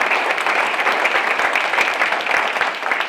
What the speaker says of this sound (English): Let's give them a great hand.